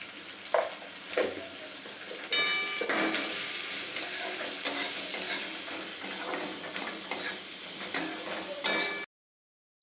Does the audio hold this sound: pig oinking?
no